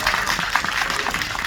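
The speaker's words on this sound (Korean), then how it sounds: "박수 한번 부탁드립니다" A theater audience clapping at a Q&A screening of the Korean film Firefighters at CGV Yongsan: dense, loud applause filling the whole moment, with many hands blending into one continuous rattle.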